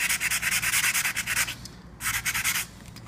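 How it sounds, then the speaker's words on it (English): Close, fast scratching and sanding on a metal surface being abraded down to shiny bare metal, rhythmic rasping strokes in two bursts with a short pause between. "I'm just going to keep scratching until we have this shiny bare metal underneath."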